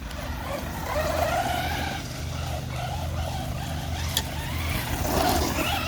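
A Traxxas Rustler RC car fitted with a new servo is driven hard, its motor giving a steady, fairly loud whirring rumble throughout, with one brief click partway through.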